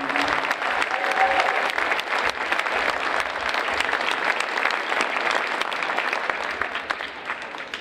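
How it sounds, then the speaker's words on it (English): Sustained applause from a high school Christmas concert audience: dense, even clapping that fills the room for several seconds before easing slightly at the end. "Let's give one more round of applause."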